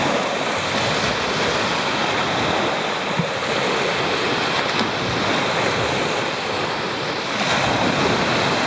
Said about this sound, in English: Lake Michigan shoreline.